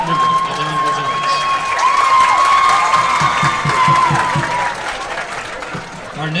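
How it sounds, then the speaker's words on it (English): A crowd at a high school homecoming football game applauds and cheers loudly for a homecoming court member, with steady clapping, shouts and children's voices blending into one sustained roar. "Please give a round of applause for homecoming court member Adon Gonzalez."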